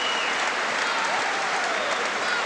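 A crowd at a 1982 England versus USA boxing match applauds in a sustained, dense wash of clapping and crowd noise, with faint voices carrying underneath.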